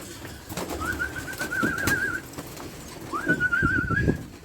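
Pigeons coo in two drawn-out, warbling calls separated by a short pause, with soft rustling and shuffling nearby.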